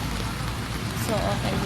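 Rain falling outdoors while people walk, a broad wet hiss close by, with people talking over it.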